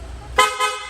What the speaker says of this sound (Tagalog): Sir, pa-activate naman ang loud horn.